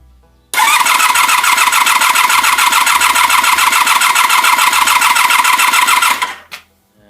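The starter motor turns over the engine of a 1984 Honda VF750F during a compression test on cylinder number 4. A loud, fast, rhythmic chugging runs for about six seconds, then cuts off abruptly.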